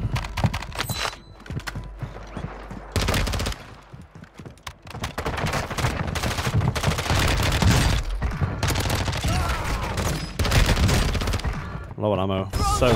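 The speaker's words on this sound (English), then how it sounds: "Let's literally just keep firing." An MP5 submachine gun in a first-person shooter fires long continuous bursts, loud and close, with brief gaps near the start and middle, over mechanical clatter from the game.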